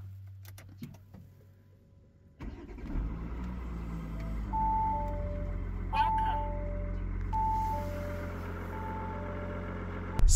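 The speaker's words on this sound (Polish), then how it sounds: "Pora na zimne odpalenie diesla." An Audi Q8 3.0 V6 TDI quattro diesel starting from cold: after a quiet couple of seconds the engine cranks and catches, then settles into a low, steady diesel idle, with several soft electronic chimes sounding over it.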